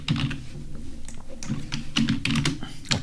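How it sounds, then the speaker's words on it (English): Rapid, loud keystrokes on a computer keyboard while entering a title in online image editing software, a dense run of clicks across the whole stretch with low background hum and no speech. "I do have to type that up here"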